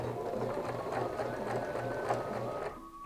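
A sewing machine runs in a quick, steady rhythmic clatter for a few seconds, close by, then stops abruptly.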